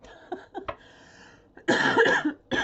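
A few short coughs and throat-clearing sounds, then a louder burst of harsh, rough coughing near the end, close and alone.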